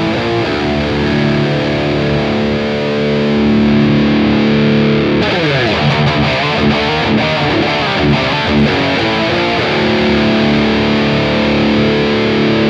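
A loud, heavily distorted electric guitar plays chords and riffs through a VX Kraken MKII, and the tone turns brighter and more cutting halfway through as the presence control is changed. No one speaks.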